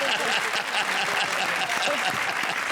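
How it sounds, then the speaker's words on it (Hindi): Studio audience at a comedy show bursts into sustained, close, energetic applause that stays loud and even from start to finish. "जोरदार तालियां पर शान शकील"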